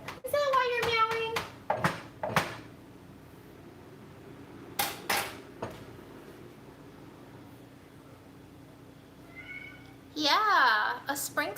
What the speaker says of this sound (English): Is that why you're meowing?